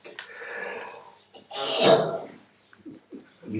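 A man gives a single close, sharp sneeze during a quiet spoken talk, a sudden loud burst between stretches of his murmured speech.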